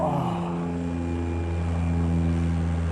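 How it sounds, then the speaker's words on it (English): A Twin Otter propeller plane drones overhead in chilly winter air at Old Town, Yellowknife, a steady, fairly loud engine hum with a constant low tone and no talk. "always we have our prop planes flying around."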